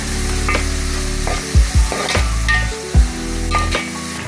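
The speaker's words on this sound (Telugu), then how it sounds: "ఉల్లిపాయ ముక్కలు వేసి వేయించుకోవాలి" Sliced onions and curry leaves frying in oil for Andhra-style mutton curry, a steady close sizzle with a few scraping stirs of the spoon against the pan.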